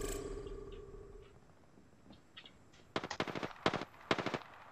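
Bursts of automatic gunfire in a battle royale video game, a quiet ambient stretch giving way to several loud rapid-fire volleys in quick succession near the end.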